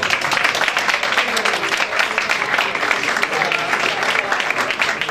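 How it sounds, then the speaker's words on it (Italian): A crowd applauds steadily, dense clapping from many hands that stays loud throughout. "applauso per Clara."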